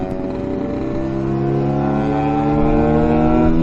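A Lambretta S1 scooter accelerates on a ride, its engine drone rising steadily in pitch and loudness, close and continuous with a buzzy tone.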